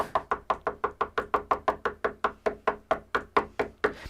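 Rapid, insistent knocking on a door, about twenty sharp evenly spaced raps in quick succession, close and loud with no voices.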